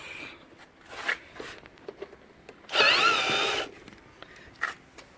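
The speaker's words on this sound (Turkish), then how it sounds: "Buradan iki vidayı söktük. Diğer taraftaki vidayı da sökeceğiz." A cordless screwdriver or drill backs out screws from the wheel arch liner of a Renault Megane 2, one short whirring burst in the middle amid clicks and handling knocks close by.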